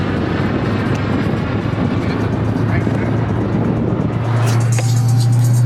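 A police helicopter passes overhead at a street car meet, its steady low rotor drone loud and continuous and swelling near the end, mixed with car noise from the crowd.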